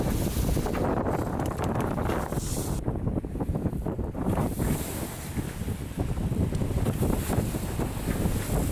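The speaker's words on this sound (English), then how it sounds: "We're hitting the first waves." A sailboat pounds through waves in strong wind: a loud, continuous roar of gusting wind, buffeting the microphone, and rushing water, with heavier splashes surging and fading.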